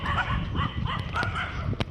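Dogs on a farm where buffaloes are kept bark in a quick, close run of yips and woofs, with a loud sharp bark near the end.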